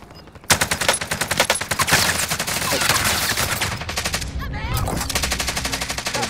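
Rapid automatic gunfire in the video game Call of Duty: Modern Warfare, loud and sustained bursts of shots firing repeatedly over several seconds with brief gaps, amid a busy game soundscape.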